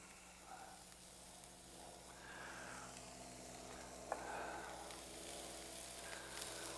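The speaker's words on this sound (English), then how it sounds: "that's what the shish kebabs look like when they're sitting on the grill" Marinated, parboiled shish kebabs sizzle on a grill with a soft, steady frying hiss, faint and continuous, with one brief sharp crackle midway.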